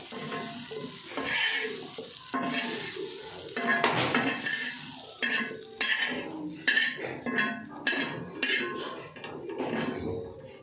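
Metal utensil scraping and clinking against a pan in repeated strokes while transferring roasted cauliflower onto a plate, with light sizzling underneath, close by.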